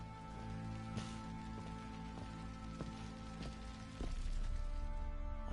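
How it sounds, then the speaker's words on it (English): Steady rain patters on a surface in the video game The Witcher 3: Wild Hunt, a dense even hiss with scattered drops, getting a bit louder near the end. "Still raining outside."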